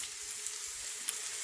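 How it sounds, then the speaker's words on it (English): Chopped onion fries in a pan, a steady soft sizzle and crackle running evenly throughout the short stretch, fairly quiet with no voices. "So fry the onion after a while."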